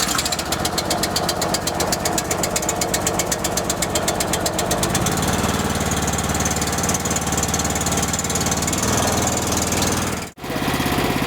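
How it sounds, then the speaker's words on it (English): Small engine on a SealMaster SM-125 heated crack sealing machine runs steadily after a choked start, a loud continuous rumble with a fast rhythmic chatter that smooths out partway through, then briefly cuts near the end. "Now we got our engine running"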